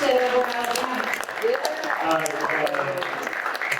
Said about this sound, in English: Just a round of applause for the judges one more.